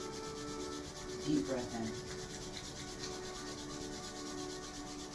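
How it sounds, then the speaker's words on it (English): During a sunrise yoga session, palms rub together to build warmth in a soft, continuous swishing friction. Faint and close, with a brief surge near the start, heard alongside a calm spoken instruction. "Now rub your palms together and develop some heat in the palm of your hands."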